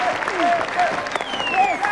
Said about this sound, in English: He gets the standing applause of his Australian teammates